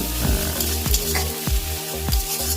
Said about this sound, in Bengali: আমরা এই মাছগুলোকে ভেজে নেব মোটামুটি